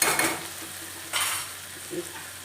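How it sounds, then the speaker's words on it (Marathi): Seed chutney sizzles and hisses in a pan in surges as it is stirred, with a faint scrape of a utensil, close and fairly loud. "हे चांगलं असं परतून घेऊया"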